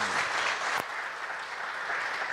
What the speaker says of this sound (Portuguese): aplaudindo ao Senhor nosso Deus